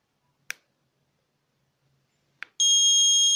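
A fingerprint attendance scanner buzzer sounds after a wrong finger is presented: two short sharp clicks are followed by a loud, steady high-pitched electronic tone that holds to the end.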